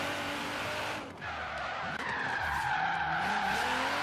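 Nissan GT-R drifting in the Forza Horizon 3 racing game, tires squealing in sustained, wavering skids over steady engine roar, loud and close throughout with a brief dip in the middle.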